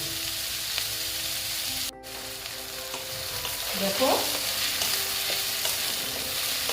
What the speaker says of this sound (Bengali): পেঁয়াজ দিয়ে পেঁয়াজটাকে আমি ভেজে নেব